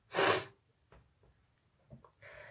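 One sharp, loud nasal sniff or snort up front from a person with a cold, then quiet breathing and a few faint mouth sounds before a short vocal sound at the end.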